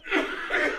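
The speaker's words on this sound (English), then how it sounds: "Coughing up that oyster again." A person coughing and sputtering on a swallowed oyster, a short burst lasting under a second that blends into chuckling, laugh-like breaths.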